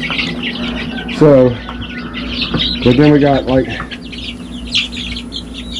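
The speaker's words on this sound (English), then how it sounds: "You see we got one rooster back there in the back." Chickens in a backyard coop, including Americana, light Brahma and a Rhode Island Red rooster, let out two loud, close squawking cluck bursts among softer clucks, while a person talks nearby.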